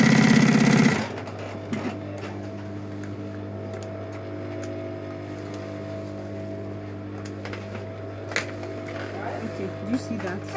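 A sewing machine stitches around a tote bag, a steady mechanical hum and rapid needle chatter at first, then settling into a low continuous drone with faint clicks, a voice speaking over it.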